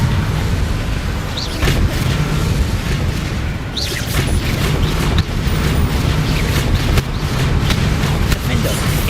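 Spell explosions in Hogwarts Legacy gameplay: loud, continuous booming combat blasts and crackling impacts pile up densely, with shouted spell calls over the top throughout.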